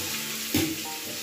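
Onions frying in a pan on a home stove, a steady soft sizzle with a brief stirring scrape in the middle, close and fairly quiet.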